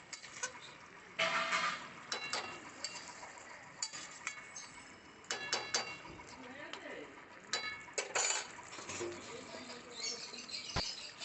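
A lid goes onto a cooking pot of vegetarian banana-stem dalna, giving several scattered metallic clinks and knocks against a low kitchen background.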